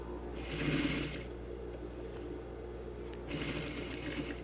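A sewing machine stitching the front button line of a tailored vest, a steady mechanical hum with two louder bursts of fast needle chatter, close and alone.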